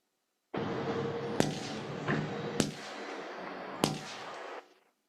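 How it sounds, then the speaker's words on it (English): Four sharp gunshots from a played-back recording of a roadside incident involving a truck, spaced irregularly over a steady roar of background noise; loud, impulsive cracks with no voices. "You heard 4 gunshots?"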